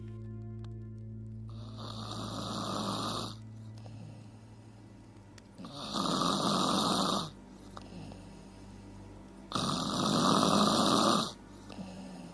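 Three loud snores in slow succession, each a long rasping inhale separated by quiet breathing pauses, close and clear.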